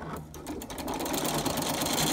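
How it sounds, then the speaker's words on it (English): Sewing machine top stitching across the edge of folded fabric for a tote bag, a fast continuous mechanical whirr and needle chatter that builds and holds steady, close and loud with no speech. "fold it over, and sew right across to make a top stitch to the top of the fabric"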